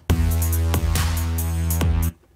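A loud, buzzing Dirty Bass synth preset from the Synchronus sequencer holds a low, sustained tone with distorted grit, rhythmically retriggered and cutting off abruptly at the end.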